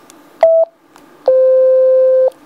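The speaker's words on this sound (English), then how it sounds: "So this is the Sepura genuine sound tones." Sepura radio tones play on a Hytera PD785 handheld radio: a short clean beep, then a longer, roughly one-second steady tone, loud and alone.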